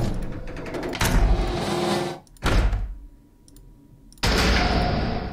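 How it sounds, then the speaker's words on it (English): Door sound effects from the RPG Maker game engine play one after another: three separate loud clunks and sliding rattles, each sustained briefly before cutting off, close and dry with no speech. "I hate every door sound effect in this engine."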